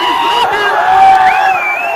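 At a Foundation Day concert for the Karbi Anglong Autonomous Council in Dongkamukam, a large crowd cheers loudly and continuously with whoops and high shouts, a thick, sustained roar close to the listener.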